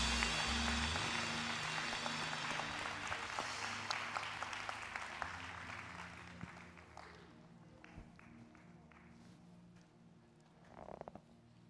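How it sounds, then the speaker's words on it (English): A church congregation claps hands together in a loud, dense wash that gradually thins and fades, leaving a few scattered claps and a brief murmur near the end. "give the Lord a great big hand clap"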